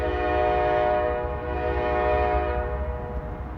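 A CSX train departing the Brown Street block on track two sounds a long, loud, sustained horn chord close by over a low rumble of rolling rail cars; the horn holds steady and eases slightly toward the end.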